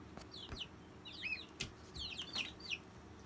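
Baby chicks on a farm give quick high-pitched peeping chirps in short clusters, fairly faint above a low, steady background rumble.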